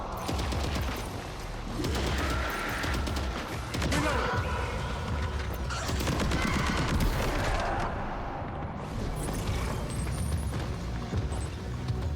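Underwater gunfire in the video game Death Stranding 2, a dense, continuous stream of muffled shots and bursts with booming explosions, loud and steady throughout.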